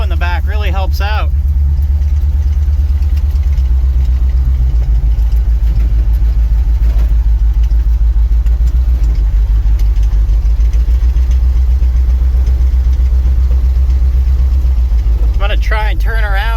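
An International truck idles loud and close in snow after a cold start, its engine holding a deep, steady rumble throughout, with a voice talking briefly over it at the beginning and again at the end.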